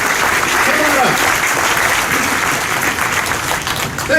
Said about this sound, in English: Everybody give Alfred a big round of applause.